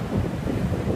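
Ocean surf on the beach at South Padre Island mixed with wind buffeting the microphone, a close, continuous rushing roar over a brief stretch.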